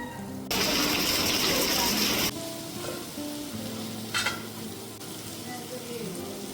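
Browned onions frying in a pan with pepper powder and garam masala, a loud close sizzle that drops abruptly after two seconds to a softer hiss, with a brief scrape of stirring.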